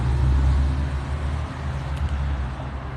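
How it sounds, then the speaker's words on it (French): A Porsche drives past on the road, a low steady engine rumble that is loudest at the start and then eases slightly, with no voices. "Une Porsche qui suit derrière."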